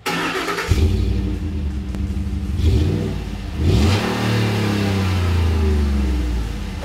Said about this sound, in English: This was the stock exhaust on our Raptor.